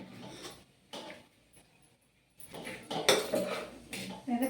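Cooked rice being scooped from a pot into bowls in a home kitchen, with dishes and utensils clattering in bursts, quieter at first and then louder, busier clinks near the end.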